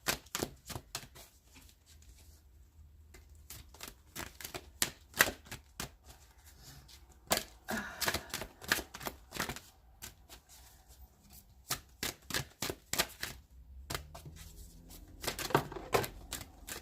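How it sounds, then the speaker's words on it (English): Tarot cards riffle and snap in quick bursts of crisp shuffling, with short pauses and soft slaps as cards are drawn and laid down, fairly close and without talk. "let's pull 2 cards of advice"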